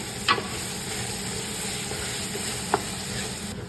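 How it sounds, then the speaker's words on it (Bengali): Tomato paste with ginger-garlic paste fries in a pan for butter chicken, giving a steady close sizzle with two sharp clinks of a spoon stirring against the pan. "এখন দেবো একটা টমেটো পেস্ট। কষাতে হবে ভালো করে।"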